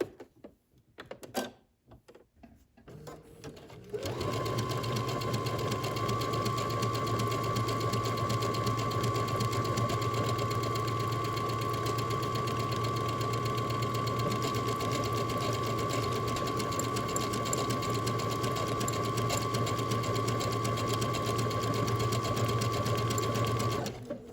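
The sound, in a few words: sewing machine stitching buttonholes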